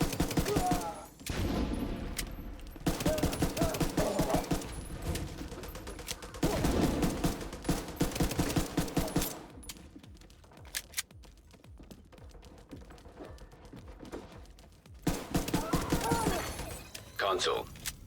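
Rapid bursts of pistol fire in a video game crack out in clustered volleys, loud and close, pausing briefly around the middle before resuming; a voice talks intermittently underneath.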